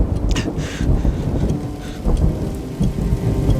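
Heavy rain pours steadily on surfaces during a storm while deep rolls of thunder rumble repeatedly underneath, loud and close with no voices.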